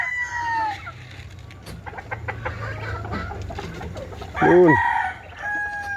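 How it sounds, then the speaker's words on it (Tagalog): Chickens cluck and a rooster crows while being fed at feeding time, with fowl calls repeating near and fairly loud and one strong crow rising midway; a voice speaks briefly. "Yan, susunod naman natin yung ating manok."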